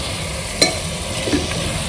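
Boiled chickpeas go into a frying potato curry and get stirred, with a soft scrape and light sizzle in a short, close burst with no talk.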